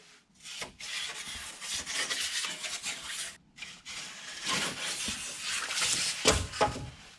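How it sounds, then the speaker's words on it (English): A Surform drywall rasp files the edge of a drywall sheet in repeated rough scraping strokes, loud and close, with a brief pause between bursts and no talk. "Then you take your Sureform or drywall rasp, whatever you want to call it, just set it on the edge."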